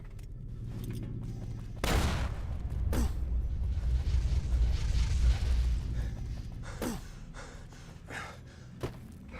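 A grenade explosion in Fallout New Vegas, one loud sudden blast with a rumbling tail, followed by a couple of smaller distant thuds and quieter ambience.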